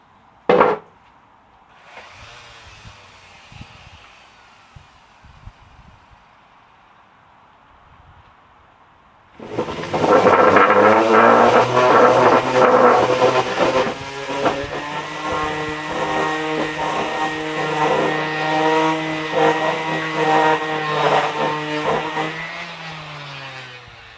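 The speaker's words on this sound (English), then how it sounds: "I'll go ahead and clean sand this real quick." A Black & Decker random orbital sander starts with a click, then grinds over a wooden surface in a loud, steady buzzing whir that lasts about fifteen seconds, with scattered handling noises before it starts.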